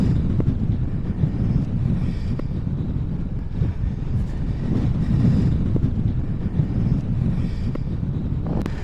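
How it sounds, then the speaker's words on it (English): Strong wind buffets the microphone on an open Lake District fell, a loud, continuous low rumble with gusty surges and no voices. "The Met Office today reckoned 10-mile-an-hour winds at this level, but I think they've got that wrong somehow"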